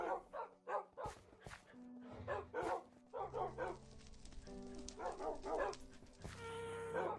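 Several dogs in a Minecraft-style video game bark and yip in short bursts, some whimpering, moderately loud against a sustained tonal hum, with brief gaps between clusters.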